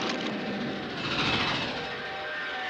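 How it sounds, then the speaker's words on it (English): A cartoon train runs steadily along the rails with a continuous rumbling roar and a faint rattle, loud and close throughout, with no other sounds breaking through. "You've got to stop that train."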